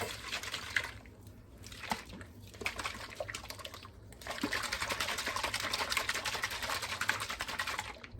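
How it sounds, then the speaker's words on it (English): A lidded container holding dry ingredients and toasted sesame seeds is shaken hard, giving a steady, fairly quiet hiss and rattle of grains that swells and grows busier in the second half. "We're going to go ahead and put the lid on and give it a good shake."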